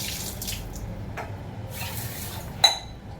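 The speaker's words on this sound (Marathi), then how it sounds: "पाण्याने धुवून घेते जरा" Water runs at a kitchen sink while a dish is rinsed, a soft continuous splash broken by a few short gushes and one sharp metallic clink near the end.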